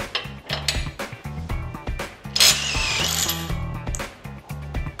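A Bosch GDR 18V-220C cordless impact driver on its third speed setting backs out an M16 screw, giving rapid loud rattling hammer bursts in quick on-off pulses, close and dominant throughout.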